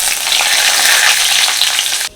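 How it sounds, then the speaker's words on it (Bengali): Whole cumin, halved dried red chillies, whole garam masala and bay leaves hit hot oil in a kadai, raising a loud, close, crackling sizzle that holds steady for about two seconds and then cuts off abruptly. "কড়ায় যা তেল আছে তার মধ্যে আমি কিছু মশলা ফোড়ন দিচ্ছি"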